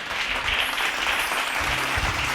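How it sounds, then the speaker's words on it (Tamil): A congregation at a Bible study gathering claps in a brief, loud burst of applause, with a few low thumps mixed into the steady patter of many hands. "கைத்தட்டுங்க அவருக்கு."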